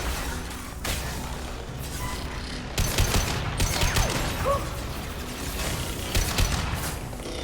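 Gunfire crackles in a Mass Effect 2 firefight during Tali's loyalty mission, with bursts of sharp shots, whooshing projectiles and impacts repeating over several seconds against a noisy battle backdrop.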